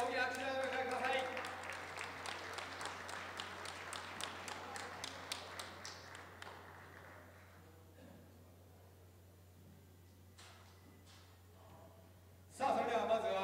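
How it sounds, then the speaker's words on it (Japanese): Audience applause at an RC drift world cup awards ceremony: a round of rhythmic clapping that thins out and stops after several seconds, a few stray claps, then a sudden loud burst near the end. "皆さん改めて大きな拍手をお迎えください。"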